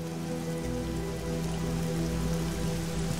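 Rain falls steadily in the desert, a dense even patter of drops striking surfaces, constant and close throughout with a low background hum and no voices.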